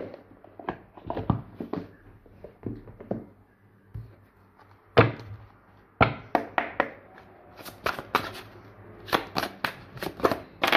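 Oracle cards being shuffled by hand in repeated quick riffles and flicks, close and crisp, with short pauses between bursts and no talking.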